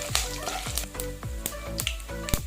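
Dried red chillies fry and crackle in hot oil in a pan for coriander rice, with a steady sizzle broken by repeated scraping strokes of a stirring spoon, close and moderately loud.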